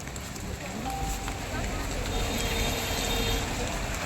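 Heavy rain patters steadily on a pandal canopy over a protest sit-in, a dense, constant hiss filling the whole stretch with faint background sounds mixed in.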